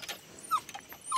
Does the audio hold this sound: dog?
yes